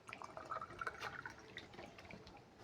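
Water poured into a drinking glass, a faint, quiet trickle with small splashes and drips that rise and fall over a couple of seconds, with no talking.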